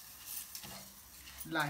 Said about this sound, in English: So I have to fry the rice.